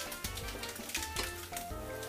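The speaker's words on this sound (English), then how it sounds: "You can already hear the chicken sizzling" Steady sizzling and crackling of chicken frying in a hot pan, with faint clinks and stirring, no talking.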